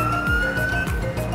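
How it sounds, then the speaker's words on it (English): A police car siren in the GTA 4 game wails loudly with a repeating electronic yelp, its pitch sweeping up and down in quick cycles, steady and close throughout. "Like that siren though."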